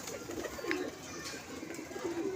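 A pigeon from a pigeon club loft gives soft, low cooing calls in a couple of brief phrases, fairly faint against a steady background hiss, with no talking.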